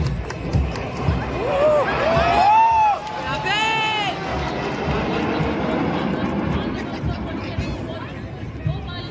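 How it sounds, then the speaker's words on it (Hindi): A formation of MiG-29 jets roars overhead at the Republic Day parade on Kartavya Path, loud and sweeping, above crowd noise and an announcer's voice. "the MiG-29 Bharat formation will take on the Kartavya Path sky"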